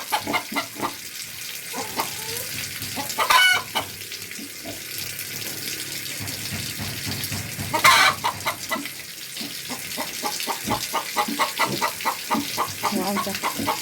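Chickens cluck and call around a farmyard, with louder squawks standing out, over running water and a busy background.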